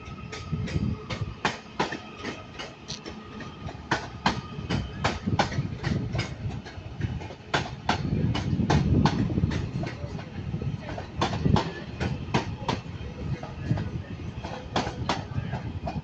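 A Northern Class 331 electric train pulls out of Manchester Piccadilly station, its wheels clicking steadily over rail joints through a continuous low rumble, heard at a moderate distance.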